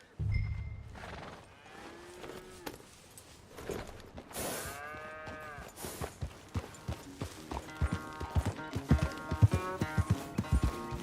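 Horse hooves clip-clop on the ground as a rider sets off in the Western video game Red Dead Redemption 2. A single horse snorts and whinnies between the steps, and the footfalls grow quicker and louder toward the end.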